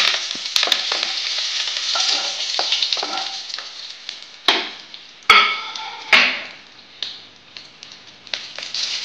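Curry leaves and garam masala hit hot oil for a veg paneer curry, giving a crackling sizzle with sharp pops and spitting bursts over a continuous fry.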